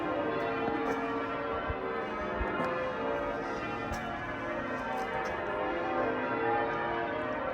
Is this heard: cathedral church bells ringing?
yes